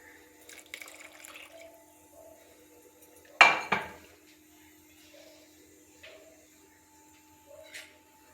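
A pot clanks sharply once while water is added to soaked tamarind, followed by light scattered kitchen clinks and faint trickling in a quiet room.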